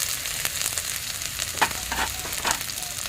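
Onion and garlic paste sautéing in oil with turmeric powder added, a steady soft sizzle with scattered sharper crackles and a few stirring scrapes, close and alone.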